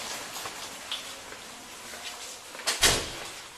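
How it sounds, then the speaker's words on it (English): A door is opened in a quiet room: faint shuffling and small knocks, then a sharp louder latch clack followed by a brief rattling swing near the end. "Can you open the door for me?"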